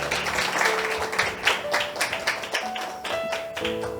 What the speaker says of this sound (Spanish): ¿Le puede dar un aplauso a nuestro Dios?